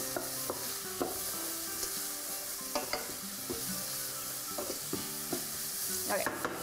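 A mixture is stirred in a pan over low sizzling, with a spoon scraping and knocking against the pan in irregular clusters of clicks throughout.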